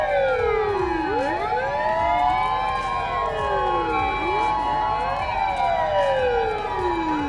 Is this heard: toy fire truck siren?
yes